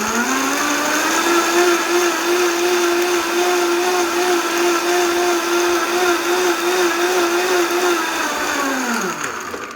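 A Costco Vitamix blender grinding nuts and frozen fruit runs at a loud, steady, high-pitched whine for nearly ten seconds, then starts to wind down at the very end.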